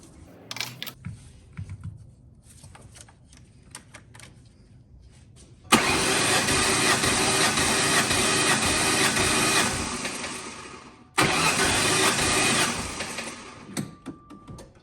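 The engine of a Mustang Cobra cranks over on the starter during a compression test, with quiet shop clicks, then a loud steady cranking burst of about five seconds, a brief pause, and a shorter second burst.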